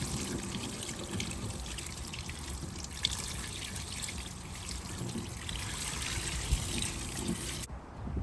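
Liquid pours and trickles steadily for several seconds while rinsing a car battery, a continuous splashing stream with small irregular drips.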